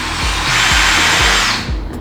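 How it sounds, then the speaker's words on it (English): A power drill bores out a hole in plastic hoop tubing, a loud, close whirring grind rising and holding for about a second before tailing off. "And then you just drill that"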